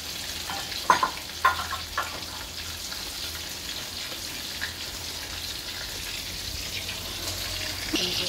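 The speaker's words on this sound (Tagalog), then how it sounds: "Taga-prito ng manok." Steady sizzling of food frying in hot oil, with a few sharp clinks and stirring noises early on.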